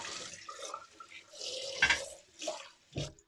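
Water runs from a tap in bursts for a face wash after a shave, splashing close by with short pauses between pours and a final splash.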